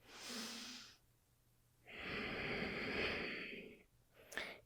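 Slow, steady breaths during a yoga session: a long inhale, a pause, then a longer exhale, close and soft, with a brief snort-like breath at the end.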